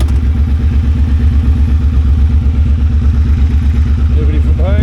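A Triumph Bobber motorcycle rides along at a steady, loud, low engine rumble with a regular pulsing beat, heard close up and continuous throughout, with a faint higher whine entering near the end.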